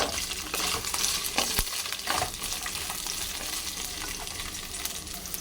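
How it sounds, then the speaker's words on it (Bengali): Chopped onions with curry leaves and three green chillies fry in hot oil in a pan, giving a steady, dense sizzle close to the mic with a few stirring scrapes and clatters, no voices. "দিয়ে দেবো কারি পাত্তা, দিয়ে দেবো 3টে কাঁচা লঙ্কা, আর দিয়ে দিলাম পেঁয়াজ।"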